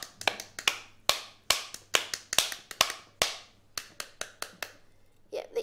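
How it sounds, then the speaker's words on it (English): Sharp hard taps from a utensil striking the back of a halved pomegranate to knock the seeds loose, about twenty close, crisp smacks in irregular bursts with no talk. "Aim is to hit the pomegranate,"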